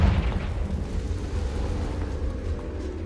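A deep, sustained rumbling blast from the Confringo spell in Hogwarts Legacy, heavy low-end roar filling the whole stretch at steady loudness without a sharp onset.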